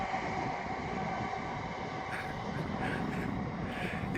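A train rumbles past continuously outdoors during a nature walk, a steady loud roar of wheels and carriages on rails with no pauses and no voices.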